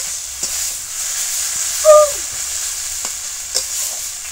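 Thinly sliced potato and brinjal egg chorchori fries in a pan with a soft sizzle, with a few sharp scrapes of stirring and a brief squeak near the middle.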